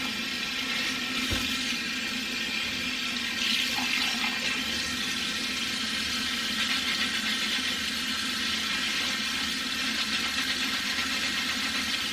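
Steady water running continuously, fairly close and even, while an object is rinsed under the flow, with a brief knock partway through and no talking.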